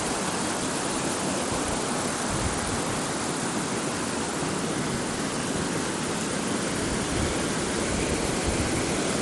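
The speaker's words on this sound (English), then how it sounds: "This here is the upper falls." The upper falls of Wallupt Creek pour down in the woods, a loud, steady, unbroken roar of rushing water close by with no talk.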